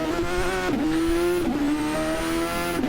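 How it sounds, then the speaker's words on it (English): McLaren Formula One cars from a 1991 season race in a racing video game pull out of the pits, engines droning steadily at high revs with pitch dips as they shift, loud and continuous with no talk. "Both McLarens now leave the pits."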